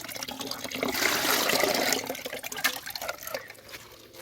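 A steady stream of water runs from a pipe to water coconut palms in a Konkan orchard, a continuous rushing splash that swells in the middle and then eases, with no voices.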